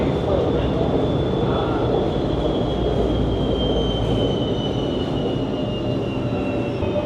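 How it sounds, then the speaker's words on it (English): Steady, loud rumble of an LRT rail car in motion in Vietnam with a faint high whine, continuous throughout as another train runs alongside. "Looks like we're going to be passing side by side with another train."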